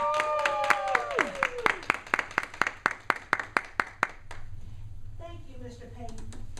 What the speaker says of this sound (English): So please stand up and give a round of applause to Dr. Kamisha Hill Carter.